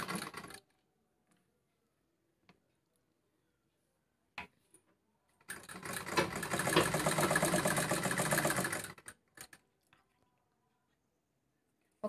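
A sewing machine stitches a blouse in a close, rapid whirring run of about three seconds, framed by short mechanical clicks and quiet gaps.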